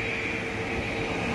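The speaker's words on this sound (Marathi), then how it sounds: "जेट आहे हा, बघा किती स्पीडनी चाललाय हा बघा" A jet airliner speeding along the runway at Mumbai airport, heard from the Jari Mari hill viewpoint in Kurla: a loud, unbroken broadband roar filling the whole moment, with no voices.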